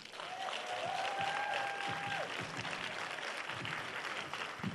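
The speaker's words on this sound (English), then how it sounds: "Give a round of applause" A crowd claps steadily and continuously throughout, with a faint whistle-like tone briefly rising early on.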